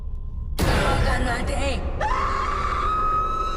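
A woman screams loudly and at length in a horror story setting, her shrill, sustained cry rising and breaking in pitch before settling into a long held wail.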